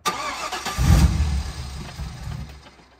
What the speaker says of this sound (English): And to top it all off, it's got a bad random misfire.